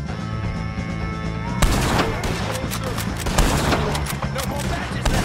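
Gunfire during a shootout with O'Driscoll gang members in Red Dead Redemption 2, rapid, loud shots erupting after a steady tonal hum and continuing in a thick, busy barrage with game sounds around them.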